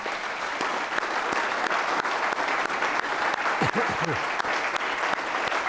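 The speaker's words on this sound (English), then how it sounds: "Round of applause to the questioners." Audience applause for student questioners after a school conversation event with a guest speaker, steady dense clapping filling the whole stretch at an even level, with a brief voice surfacing near the middle.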